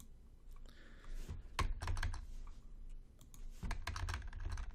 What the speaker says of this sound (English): Hit the wrong button on the keyboard.